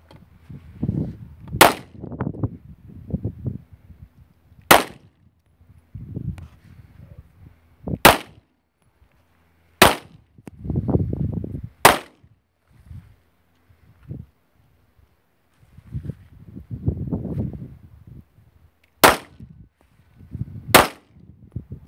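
Eight sharp Glock pistol shots crack out one at a time at irregular intervals on an outdoor range, loud and close, with low murmuring voices and shuffling between them.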